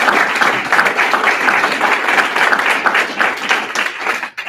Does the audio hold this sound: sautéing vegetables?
no